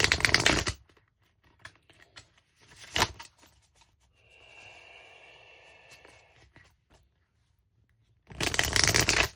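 A deck of cards is shuffled up close in bursts: a loud riffle at the start, a sharp one midway, softer bridging and shuffling between, and a final loud riffle at the end.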